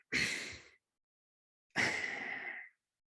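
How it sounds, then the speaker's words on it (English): Two breathy exhalations during a guided breathing exercise, close and soft: a short one first, then after a pause a longer, steady one that trails off into silence. "And then exhalation."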